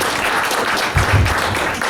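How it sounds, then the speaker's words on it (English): An audience at an association inauguration ceremony in Lagos breaks into sustained, loud applause, a thick continuous wash of clapping with a brief low thump partway through. "A round of applause,"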